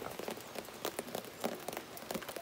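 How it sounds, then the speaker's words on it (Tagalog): Heavy rain pours down in a rural province, a dense patter of drops striking surfaces with scattered sharper splats, steady and fairly faint from a sheltered spot, with no talking. "Lakas ang ulan dito."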